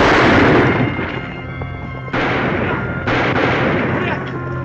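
Gunfire in a Western TV episode, a dense burst of shots and echoing reports, loud and continuous with a couple of sharper blasts midway, no clear voices over it.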